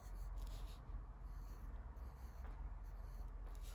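A pencil scratches and rubs across paper in short strokes, drawing small shapes on a hippo's feet, faint and steady against a constant low background hiss.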